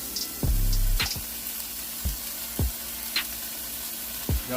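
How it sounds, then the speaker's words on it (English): Turkey bacon sizzles steadily in a frying pan, with a series of distinct knocks and clatters of a utensil against the pan breaking through at intervals. "Y'all hear that sizzle?"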